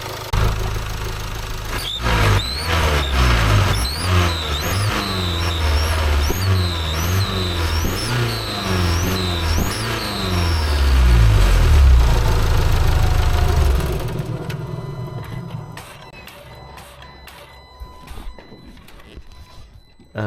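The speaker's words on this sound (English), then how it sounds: "We've got a bit of a whistle coming from the back round here, and it only happens when you accelerate." An Ingenium engine revving under acceleration with a faint whistle from the rear, loud and close, rising and falling through repeated throttle blips before dropping to a quieter idle with clicks.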